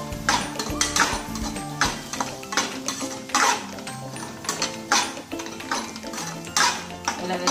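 Curry leaves and ingredients stirred in a metal pan for karampodi, a spoon scraping and clinking in quick irregular strokes against the pan, close and fairly clear, with a faint hiss of frying underneath.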